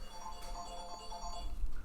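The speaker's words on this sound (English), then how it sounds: "the sound you're hearing is my son's cell" Cell phone alarm ringing faintly in the background of a room, a soft repeating tonal chime that continues through the brief moment.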